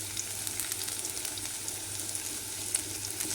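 Mustard seeds sizzle and crackle in hot oil, a dense, steady hiss scattered with small pops, close up and with no talking.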